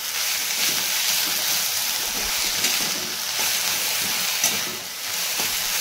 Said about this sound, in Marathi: मीठ टाकलं की एकदा भाजी आपल्याला व्यवस्थित अशी परतून घ्यायची आहे